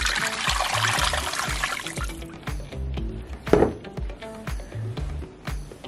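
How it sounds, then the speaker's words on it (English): Water poured into a pot of rendering tallow, a trickling, splashing pour that is loudest in the first two seconds and then tapers into scattered drips, bumps and clatter close by. "Gonna pour some more water in here."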